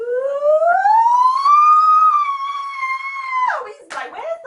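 A human voice imitates an ambulance siren as a wailing cry, rising and holding a long high tone before dropping into a wavering trail, loud and close.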